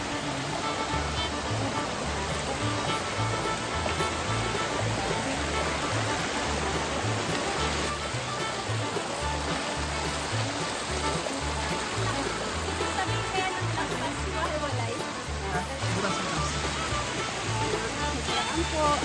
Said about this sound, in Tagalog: So here are the clips from Lactas Falls.